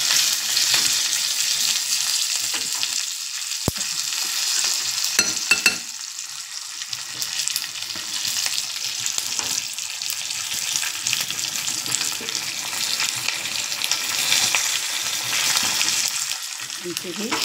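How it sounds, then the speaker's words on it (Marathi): Green chillies and curry leaves frying in a pan for a dosa chutney tempering: a steady, close crackling sizzle with bright spitting pops running throughout, plus a few sharp clicks. "दोन मिरच्या टाकते, ते चांगल्या लाल झाले का धुतलेले कढीपत्ता"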